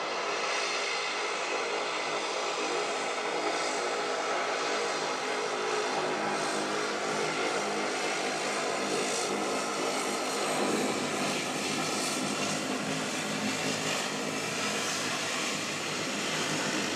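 An Air New Zealand Q300 turboprop airliner with a teal tail departs Wellington Airport bound for Tauranga, its engines holding a steady, broad roar throughout, moderately distant, with no voices.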